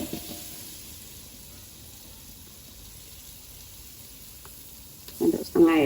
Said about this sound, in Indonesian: akan kita tumis bumbunya dengan menggunakan porvita